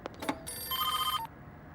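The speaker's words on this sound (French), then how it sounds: "Hé, vous pouvez même pas décrocher le téléphone?" A telephone bell rings in a short electronic trill of about three quarters of a second, loud and close, preceded by a few sharp clicks and knocks, with no voices.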